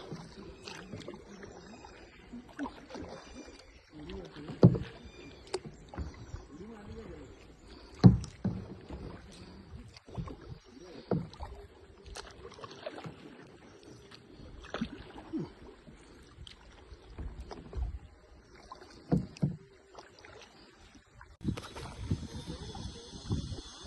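Paddles dip and splash against water beside a boat, irregular knocks and drips close by over a quiet outdoor background, with occasional louder strokes and thuds against the hull.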